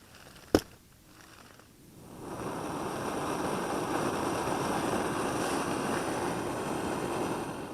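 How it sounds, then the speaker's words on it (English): Water comes to a boil on a camping stove at a snowy backcountry camp on the Chorro Grande Trail in Los Padres, a steady broadband rushing roar of stove flame and bubbling that rises after a sharp click and then holds constant, close and alone. "Alright, the water is boiling."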